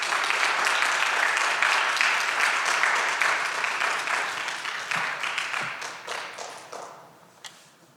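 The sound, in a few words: church congregation applause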